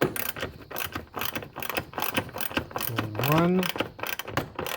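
A hand ratchet clicks in quick, repeated bursts while tightening the plastic fan shroud bolts on the radiator of a 2004 Toyota Tacoma 2.4L, close up, with a voice speaking briefly in between.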